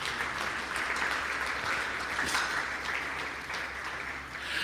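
Church congregation applauding in a worship service, a steady broad wash of clapping that holds at even loudness throughout, with no one talking over it.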